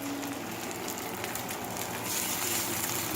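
Salmon pieces sear in a hot, already smoking pan, a dense, steady loud sizzle and crackle that swells slightly toward the end, no voices.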